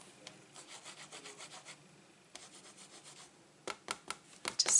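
A folded paper card being rubbed flat by hand, a soft rhythmic scraping in repeated strokes that grows louder and sharper toward the end, close up with no voices.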